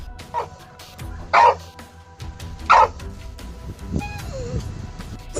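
A dog barks a few times in sharp, spaced yelps at a baboon, followed by a higher whine, against a noisy outdoor background.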